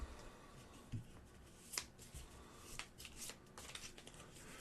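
A deck of cards is shuffled during a tabletop card game session, soft riffling and snapping of cards in quick bursts, close but quiet against faint room noise.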